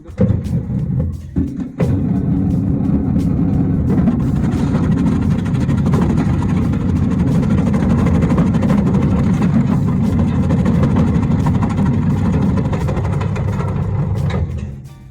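A STvega Combo electric vegetable cutter fitted with a strip blade runs steadily as it cuts carrots and beets into strips, its loud, continuous low motor drone holding for the whole stretch after a brief start.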